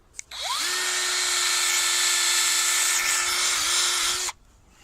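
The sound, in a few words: drilling holes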